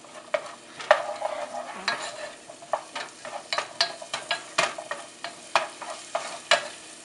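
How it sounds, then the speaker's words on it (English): Onions frying in oil as they are stirred, giving a soft background sizzle under a series of distinct spoon scrapes and knocks at an uneven rhythm, heard close with no voices. "she said that you have to mix the oil has to mix with the onions"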